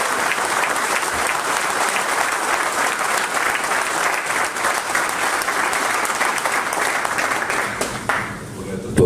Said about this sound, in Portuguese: Agradeço que tenham uma salva de palmas aqui bem contada.